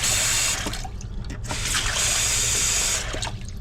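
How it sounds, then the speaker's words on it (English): Water runs steadily from a replacement kitchen faucet in a trailer home, a continuous broadband rush that stays close and fairly loud throughout, with a few faint knocks and clinks mixed in. "here is the kitchen faucet"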